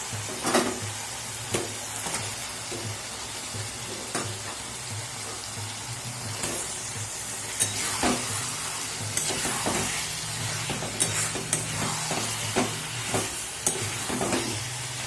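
Mutton dropped into spiced oil in a pan, a steady close sizzle and fry with stirring clatter and scattered sharp spatters running throughout, no voices.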